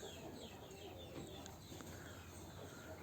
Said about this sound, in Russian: Вот эта вот курочка никого не слушается, никого не боится.